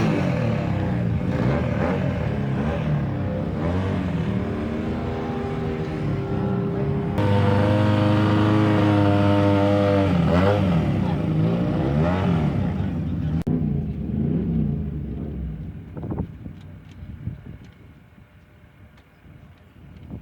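A vintage classic motorcycle runs on a race track, a loud steady engine drone with a strong rising pull midway, then fading as it moves off into the distance.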